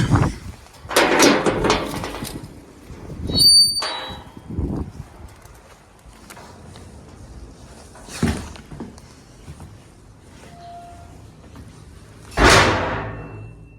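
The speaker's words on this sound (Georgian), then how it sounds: "დაიკეტა კარი." A door at an old hilltop church in Georgia swings shut with a loud clang and thud. Several other sharp knocks and bangs sound over the next seconds against a quiet outdoor background, with no talking.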